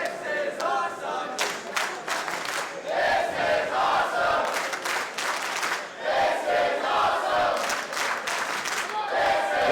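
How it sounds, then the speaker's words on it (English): A San Francisco crowd at a women's pro wrestling championship match roars and cheers, loud and continuous, with rhythmic surges, claps and shouted chants pulsing through the din. "The crowd here in San Francisco letting Zara and Johnnie know just how much they appreciate both their efforts"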